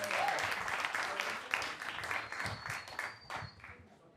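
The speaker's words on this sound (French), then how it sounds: "Vous pouvez les applaudir, donnez-leur du courage." An audience at an oratory debate event claps as two debaters walk onto the stage, a dense crowd applause that rises and falls in irregular bursts for several seconds, with voices heard faintly under it.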